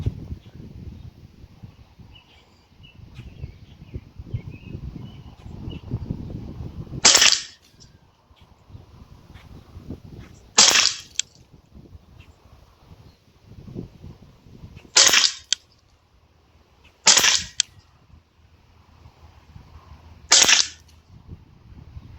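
Five sharp .22 rifle shots from a Ruger 10/22 fired at a target outdoors, spaced a few seconds apart, each a crisp crack standing out over quiet rustling background.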